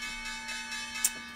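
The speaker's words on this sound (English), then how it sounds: "Let's get in with that closing bell." A stock market closing bell gives one short, bright ring over a steady electronic hum, preceded by faint soft ticks.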